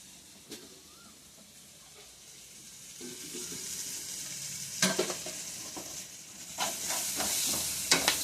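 Cabbage and carrot stir-fry for egg fried rice with curry leaves and coriander powder, a soft sizzle that swells midway, broken by several sharp scraping stirs of the spatula near the end.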